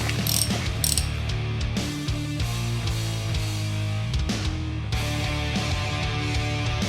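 A ratchet cranks the engine of a Yamaha YFZ450 during a top end rebuild, giving a loud, close, continuous run of rapid pawl clicks layered over grinding mechanical whirring and a steady hum, with no talk.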